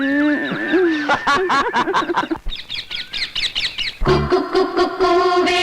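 A sparrow chirps in short, bright, repeated tweets, mixed with lower honking bird calls. The sounds come loud and close in quick bursts with brief gaps between them.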